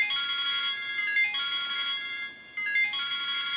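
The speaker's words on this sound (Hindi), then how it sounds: "तुम्हारा फ़ोन आ रहा है, बार बार उठा क्यों नहीं रहे?" A phone ringtone plays a bright, melodic electronic tune in repeating bursts, each lasting about a second, with short gaps between them. It rings loud and clear over a quiet room, with no talking.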